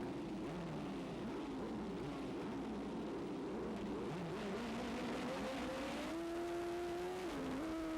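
Racing motorcycles rev at the start of a wet, slippery race at Shannonville Motorsports Park. Engines drone at a distance and then climb in pitch together as the bikes get away.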